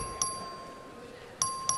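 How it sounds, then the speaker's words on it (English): An electronic voting bell in a state House chamber chimes three times, each a sharp ringing tone with a short decay, over a steady room hum. "Clerk will ring the bell."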